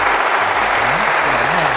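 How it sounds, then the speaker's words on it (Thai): A dense, even wash of clapping from a crowd, steady and loud throughout with no breaks, while a voice murmurs faintly underneath. "ปรบมือเลยนะครับ"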